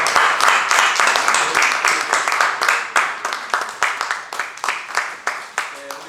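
Applause from a group at a church council general assembly fills the room, dense at first and thinning into scattered claps toward the end.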